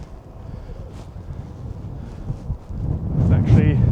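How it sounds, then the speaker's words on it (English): Strong wind buffets the microphone at the top of a tall triple helix tower, a low rumbling gust that swells louder toward the end while someone talks. "It's pretty windy"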